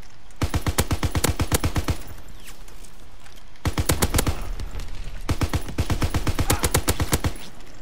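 MG 81 machine gun fire in Call of Duty WW2, heard as three long, rapid bursts of loud, evenly spaced shots with brief pauses between them.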